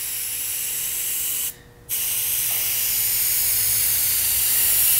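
A spray gun lays a metal flake coat over a fiberglass boat repair, giving a steady, loud continuous hiss that cuts out briefly for a moment and then resumes.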